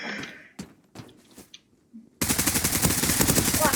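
Gunfire in the online shooter Zula: after a few scattered faint clicks and thuds, a loud rapid automatic burst starts and continues without a break to the end.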